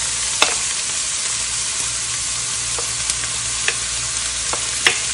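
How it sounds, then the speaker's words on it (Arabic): Onions and bell pepper frying in oil in a pan, a steady dense sizzle throughout with a few sharp clicks of a utensil stirring against the pan, close and alone. "نقلبهم زي ما انتم شايفين كده حبايبي، وخليه يطبخ"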